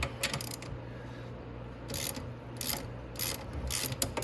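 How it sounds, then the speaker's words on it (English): Ratchet loosening nuts on a Venom 125cc Grizzly ATV control arm, with several bursts of quick metallic clicking spaced across a quiet workshop background. "you go ahead and just loosen the nuts off."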